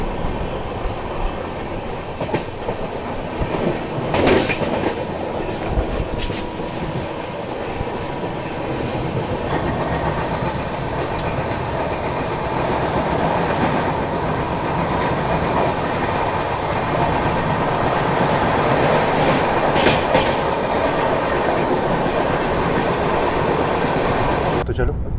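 The Gondwana Express rolls along Indian railway tracks, a loud continuous rumble from inside the carriage with rhythmic clickety-clack of wheels over rail joints and occasional clanks, building steadily as the train gathers speed.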